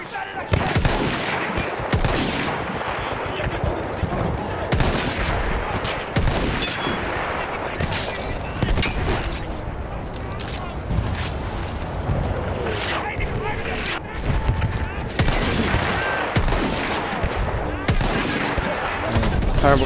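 Battlefield 1 combat fills the scene with repeated loud gunshots, machine-gun bursts and heavy booms, close and nearly continuous, while a player talks over the din.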